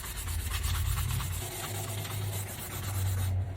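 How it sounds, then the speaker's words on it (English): A 320 grit sanding block rubs across a fan blade in steady, close back-and-forth strokes, a dry continuous scratching with no voices. "This is a 320 grit sanding block, and I'm going to sand it one way,"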